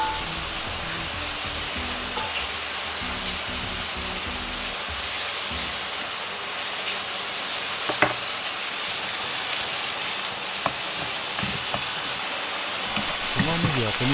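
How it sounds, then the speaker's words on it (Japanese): Onion and ginger fry in a pan with a steady, hissing sizzle that fills the whole stretch, with a few sharp utensil taps near the middle, close and even in loudness. "玉ねぎ生姜を入れ炒めていきます。"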